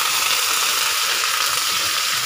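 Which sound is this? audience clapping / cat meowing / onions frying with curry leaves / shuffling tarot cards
onions frying with curry leaves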